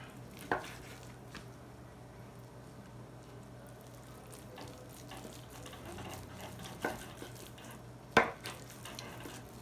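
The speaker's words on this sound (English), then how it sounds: "I'm gonna just cut into nugget sized pieces" A knife cuts a block of seitan into nugget-sized pieces on a board, giving a few sparse, sharp taps against a soft, steady background hum.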